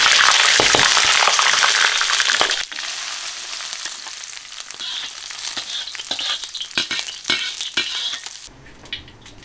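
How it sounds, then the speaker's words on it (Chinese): Dried Sichuan peppercorns and dried chilies hit hot oil with the heat switched off, giving a loud, steady sizzle that drops after a few seconds into softer crackling with scattered pops and clinks. "油温烧热哈，然后关火，干花椒、干辣椒下油锅炝香。"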